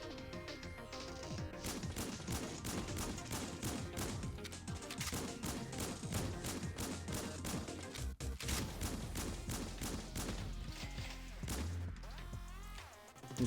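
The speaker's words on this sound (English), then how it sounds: "Guardian cannon sounds awesome." Guardian cannon from the video game Snezhinka: Sentinel Girls 2 firing a rapid, dense barrage of loud blasts and crashes that carries on steadily throughout, layered over busy game music.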